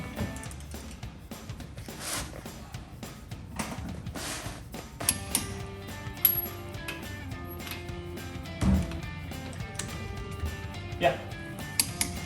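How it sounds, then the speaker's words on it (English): A torque wrench ratchets on lug nuts while wheel spacers are installed on a 2005–2023 Toyota Tacoma: repeated close mechanical clicks and ratcheting rattle through the stretch, with a brief spoken word. "So I've got my torque wrench already set. Just listen for the click."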